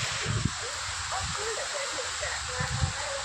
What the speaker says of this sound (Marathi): गारा पडताय भैया आमच्याकडे.